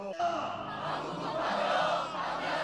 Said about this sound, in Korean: 전쟁을 반대하고 파병 계획 철회를 요구하는 시민들의 함성은 더욱 높아만 갔습니다